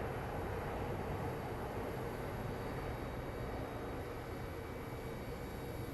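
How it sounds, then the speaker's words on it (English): A distant Airbus A350 airliner at Phoenix Sky Harbor airport gives a quiet, steady broadband jet roar that holds evenly throughout, with no voices. "And there we have it guys, Airbus A350."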